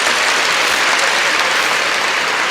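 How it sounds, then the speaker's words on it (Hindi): Steady, loud applause from a crowd fills the whole stretch, a dense wash of clapping without pauses. "एक बार तालियां होनी चाहिए"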